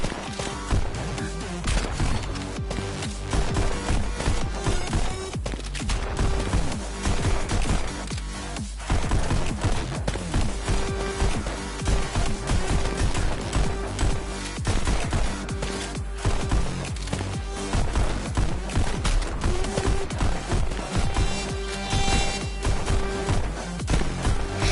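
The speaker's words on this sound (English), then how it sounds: "Shooting in 2 bursts is pretty good." Gunshots fire in the VR shooting game Pistol Whip over loud, dense music, with sharp reports coming in quick bursts throughout.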